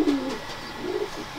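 A prized pigeon, shown by a fancier in Lahore, gives a couple of soft, low coos up close, with a short pause between them and no talking.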